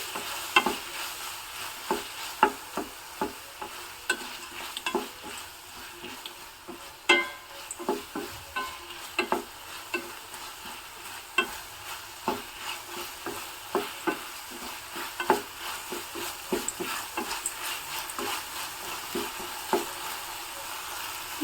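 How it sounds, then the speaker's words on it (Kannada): Tomato and onion frying with salt in a pan, a steady sizzle broken by frequent scraping stirs and spatula knocks, close and continuous, with no talking. "ಉಪ್ಪು ಹಾಕೋದ್ರಿಂದ ಟೊಮೊಟೊ ಮತ್ತು ಈರುಳ್ಳಿ ಎಲ್ಲ ಚೆನ್ನಾಗಿ ಫ್ರೈ ಆಗುತ್ತೆ"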